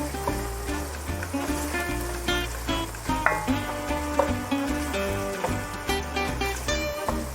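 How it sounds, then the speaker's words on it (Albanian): Tomato frying in a pan while being stirred, for a cabbage and minced meat dish, with a continuous sizzle and scraping stir strokes under a steady musical backdrop. "Na duhet që të skuqet pak domatja."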